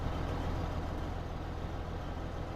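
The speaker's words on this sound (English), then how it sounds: "That tractor does pretty well" Steady low drone of a tractor engine running in Farming Simulator 15 on the Westbridge Hills map, continuous and fairly loud, with no voices over it.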